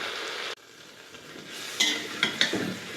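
Pumpkin pieces fry with spices in a pan, the hiss quieting after a sudden drop in level, then a few metallic clinks and scrapes of stirring over a soft, close sizzle.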